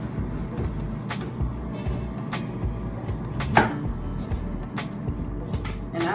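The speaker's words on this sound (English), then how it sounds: "So we're just gonna cut those in halves" A knife chops food into halves on a home kitchen cutting board, giving repeated sharp board taps at an irregular rhythm over low background rumble, with one louder knock near the middle.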